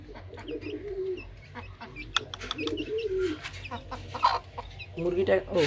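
A hen, freshly bathed and nesting on eggs in a pigeon loft, gives several close, moderately loud clucks at irregular intervals, mixed with cooing and other bird calls.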